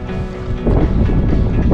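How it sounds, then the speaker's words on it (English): Strong wind roaring across the summit area of Mount Etna in Sicily, a loud, steady buffeting rush on the microphone that surges and grows heavier partway through, with no voices. "It's so windy you can probably not hear a word."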